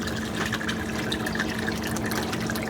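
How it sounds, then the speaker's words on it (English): Water drains steadily through a 3/4 inch drain into a PVC line in an aquaponic fish tank setup, a continuous close, rushing trickle with no breaks. "the water's draining through this 1 inch or this 3/4 inch drain here"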